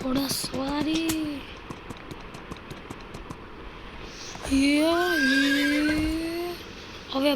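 A ridden horse gives two loud, close whinnies, one at the start and a longer one later, with faint hoofbeats between them.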